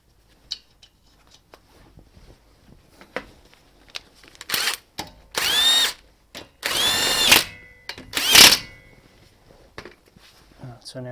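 Power tool undoing the driveshaft hub nut on a Subaru, heard as several short loud mechanical bursts in quick succession after quiet handling clicks and knocks.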